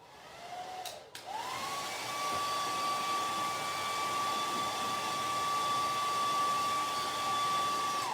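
A hair dryer blows steadily, close and constant, to dry chalk paste on a harvest porch sign; a brief dip in the airflow comes early on before a high, even whine settles in.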